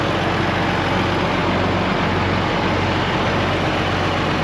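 Big International Harvester four-wheel-drive tractor engine running steadily with a deep, continuous low rumble, close and loud, with no pauses or voices.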